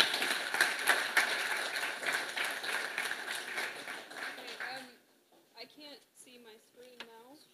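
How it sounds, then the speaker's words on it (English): An audience at a Lambda Düsseldorf programming meetup applauds for a talk with a dense, crackling spatter of clapping that tapers off after several seconds, then a voice begins speaking. "give a warm applause for our first talk about the first programming language today"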